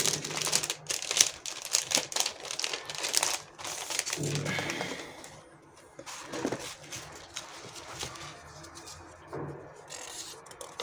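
Sheets of stationery paper from an unboxing being handled and crinkled up close, with irregular bursts of crackling and rustling. Quieter pauses fall between the bursts.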